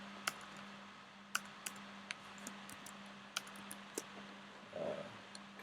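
Keys on a computer keyboard are struck in sparse, separate clicks at an unhurried pace over a steady low hum, close but fairly quiet.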